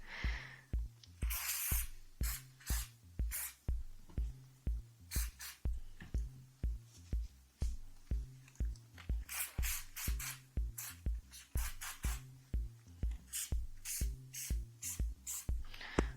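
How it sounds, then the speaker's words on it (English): Repeated short bursts of CLP gun cleaner sprayed onto both ends of an AR-15 bore snake, a quick rhythmic series of close, hissing spritzes with clicking trigger pumps, no talking. "I'm actually going to spray some of the CLP on both ends of the bore snake."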